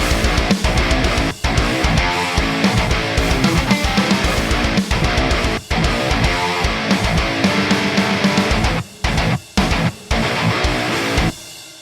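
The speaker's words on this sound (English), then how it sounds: "Those are the first 2 pairs of rhythm guitars that we reamped." Dense, loud metal rhythm guitars reamped through Engl and Blackstar amps chug in tight palm-muted riffs, with abrupt stops and short gaps between bursts, no voices.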